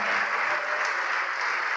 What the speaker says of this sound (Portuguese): Tá vindo mais, vamos aplaudir mais.